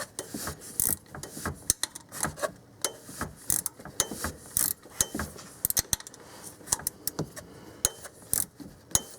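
A ratchet wrench clicks in rapid, repeated bursts while tightening radiator bolts on a 2001 Infiniti QX4, close and distinct with brief pauses between strokes.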